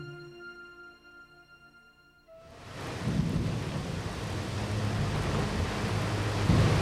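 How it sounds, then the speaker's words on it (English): A fierce monsoon thunderstorm breaks suddenly after a quiet musical passage, a heavy roar of rain and rumbling thunder that swells and stays loud and dense to the end. "One night, a fierce storm erupts, heralding the coming monsoon."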